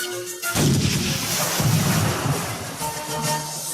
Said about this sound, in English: The Nautilus shook from the explosions of the cannonballs in the water